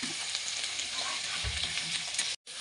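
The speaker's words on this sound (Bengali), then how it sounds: "এখানে আমি আলু ভেজে নিচ্ছি ভালোভাবে" Potatoes fry in a pan for a homemade biryani, a steady crackling sizzle close up with faint stirring, no voices, cutting off briefly near the end.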